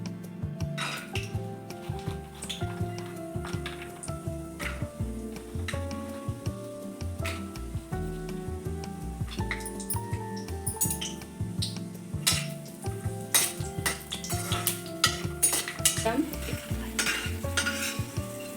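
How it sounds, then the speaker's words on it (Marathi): Mixed dry fruits sauté in hot ghee in a kadhai for ladoo, a steady close sizzle with constant stirring and metal spatula scrapes and clinks against the pan, and soft tonal music running underneath. "कढईत आता मी तूप घातलेलं आहे आता आपण एक एक साहित्य आपण हे परतून घेऊयात"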